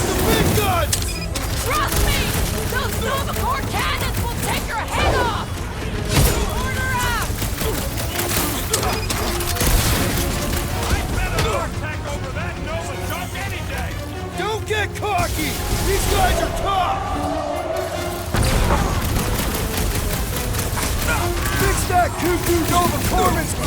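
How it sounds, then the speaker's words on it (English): Heavy cannon blasts and rapid gunfire from Nova Corps troops rattle through a combat scene in the video game Marvel's Guardians of the Galaxy, dense and continuous under frequent shouted character dialogue and music. "Those Nova Corps cannons will take your head off!"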